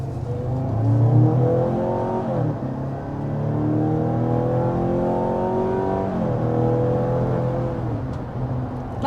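A 2024 Mazda CX-90 plug-in hybrid accelerates hard, its engine note climbing through several rising sweeps with brief dips between gears, heard loud and steady from the cabin.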